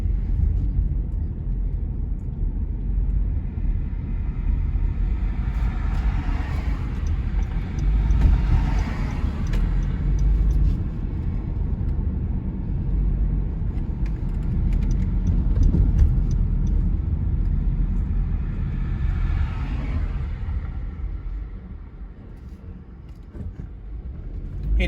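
A car drives along Constant Spring Road in Jamaica, its engine and tyre roar a steady close rumble, with traffic swelling and fading past around it.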